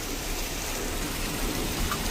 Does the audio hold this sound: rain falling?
yes